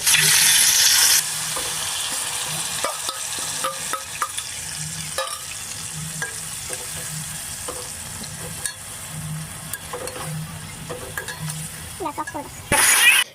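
Marinated chicken sizzles in a kadai as a spatula stirs it, with repeated scraping clinks over a constant frying hiss that swells louder at the start and end.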